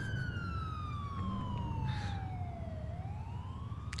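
An ambulance siren in GTA IV wails steadily, its pitch sliding down and then back up over a few seconds, loud and close above a low rumble of traffic and engine noise.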